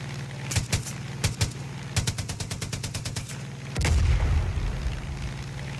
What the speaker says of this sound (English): Oh, you dropped a bomb.